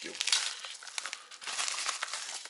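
Plastic packaging from AliExpress parcels crinkles and rustles steadily at close range as the parcels are unpacked, with a person talking over the noise.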